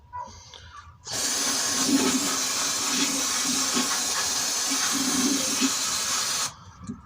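A close, steady hiss of carburetor cleaner spraying onto an antique JC Penney push mower, running continuously for about five seconds before stopping.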